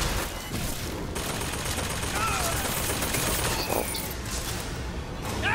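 Sustained rapid gunfire from the video game BioShock Infinite, a loud dense barrage of shots and impacts that continues throughout, with a voice speaking briefly over it.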